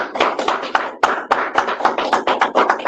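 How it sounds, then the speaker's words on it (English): Close, sharp handclaps from a small audience at a religious lecture, irregular and brisk, lasting a few seconds without speech. "Let's give our brother Abdul another round of applause."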